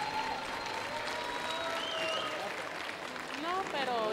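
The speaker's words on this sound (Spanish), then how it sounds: "Fuerte aplauso," Audience applause for a team at the final of an innovation challenge, a steady wash of clapping under a voice talking over it throughout.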